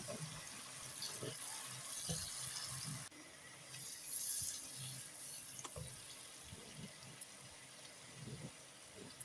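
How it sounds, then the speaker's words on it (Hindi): Water poured into a pan of dal chana seasoned with turmeric and salt, a steady watery splash and trickle running through the clip, close and moderately loud with a brief louder burst midway. "थोड़ा सा पानी शामिल करेंगे।"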